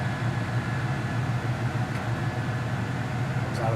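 Steady broadband whoosh of a 1976 Pontiac Trans Am's air conditioning blowing from the dash vents, with a low idling engine hum underneath, continuous and fairly close throughout.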